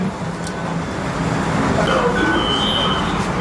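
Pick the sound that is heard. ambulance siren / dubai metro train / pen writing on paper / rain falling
dubai metro train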